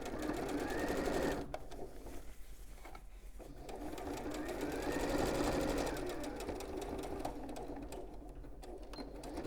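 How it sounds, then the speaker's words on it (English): Sewing machine stitching around the bottom of a small fabric bag, a continuous close mechanical hum and patter that swells and eases slightly as the seam goes on. "So I'm just stitching all the way around."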